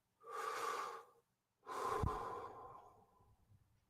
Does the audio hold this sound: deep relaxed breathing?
yes